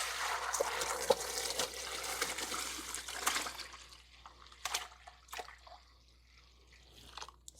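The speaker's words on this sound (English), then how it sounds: "I am gonna pour this sorrel into this. I'm gonna strain it with this." Homemade Jamaican sorrel drink poured through a strainer, a continuous close splashing stream for a few seconds that thins into scattered drips and trickles.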